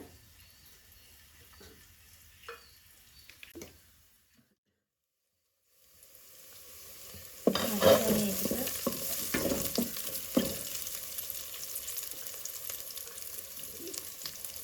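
Rice being stirred and heated in a pan for yellow rice: quiet scrapes at first, a brief silence, then a louder rising sizzle with clattering stirs and utensil knocks.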